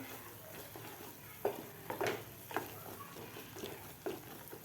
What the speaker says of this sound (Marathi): एक मिनिटभर आपल्याला हे मसाला परतून घ्यायचा आहे